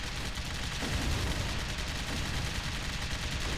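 Type 99 turrets in Airmech Arena firing continuously: a dense, steady stream of rapid mechanical shots layered over a constant low rumble of battle noise.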